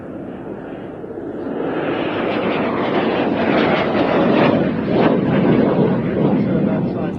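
A vintage North American propeller aircraft flies past, its engine a steady loud roar that swells and holds, with wind buffeting the microphone.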